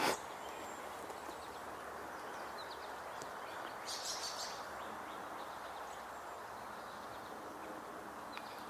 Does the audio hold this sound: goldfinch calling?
yes